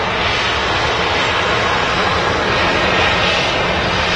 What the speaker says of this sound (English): the Ryanair taxi now in front of us now is on its way back to Dublin